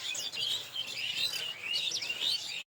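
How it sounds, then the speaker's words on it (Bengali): Birds chirp and tweet steadily in a village vegetable field in winter, a busy chorus of high overlapping calls lasting a few seconds with no talking. "এখানে কিছু পাখি কিচিরমিচির করে ডাকছিল"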